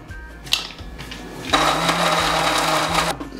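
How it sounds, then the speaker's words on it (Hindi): A mixer grinder blends a spice paste with dry fruits for a spicy Rajasthani chicken masala, starting with short bursts before settling into a loud, steady whir of nearly two seconds, with no talk over it. "अब ये ब्लेंड होगा, इसमें ड्राई फ्रूट भी जाएगा।"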